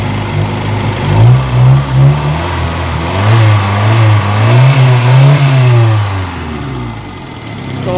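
A Kia Pride car engine revs in several rising and falling bursts, loud and close, settling back toward a steady idle between blips with no talk over it.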